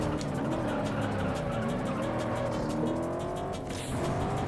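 Race car in the video game Juiced, engine revving and climbing through gears while overtaking, loud and steady with a brief dip near the end and faint tire noise.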